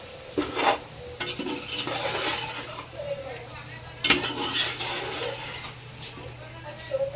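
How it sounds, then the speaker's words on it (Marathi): Chicken being stirred and fried in masala for chicken biryani, a spoon scraping and clinking against the pot in irregular strokes over a faint sizzle, close and moderately loud. "पाच मिनटं याला आपण चांगल्या मसाल्यामध्ये मिक्स होऊ द्यायचं आहे चिकनला"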